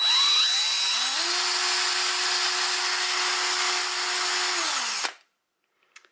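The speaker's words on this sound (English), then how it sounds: "I'll go way up to high on this drill" A power drill spinning Lego gears whirs at high speed with a steady, close whine for several seconds, then winds down and stops, leaving near silence.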